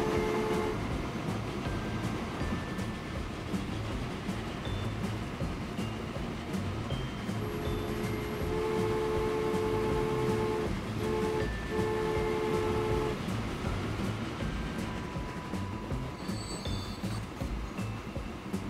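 Trains run in the video game Transport Fever, giving a continuous rumble of rolling wagons. Several sustained horn-like tones sound midway and faint chimes come near the end. No voices are heard.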